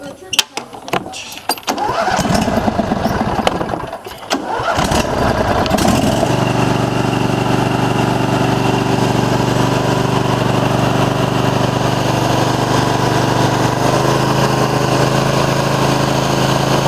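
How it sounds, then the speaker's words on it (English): A Briggs and Stratton 20 hp V-twin OHV engine cranking and starting after an oil change, a few seconds of clattering cranking, then a loud steady running drone close by, with brief talk early on. "you should just be able to start your engine"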